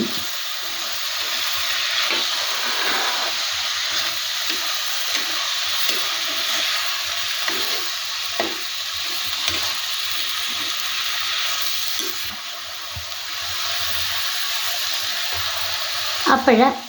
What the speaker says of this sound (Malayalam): പച്ചമുളക്, വെളുത്തുള്ളി, ഇഞ്ചി ഇട്ട് ആഡ് ചെയ്ത്